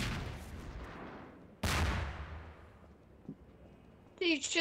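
A single loud gunshot rings out in Half-Life 2: Episode Two, with a sharp attack and a long decaying tail, followed by faint ambient rumble and a brief burst of voice at the end.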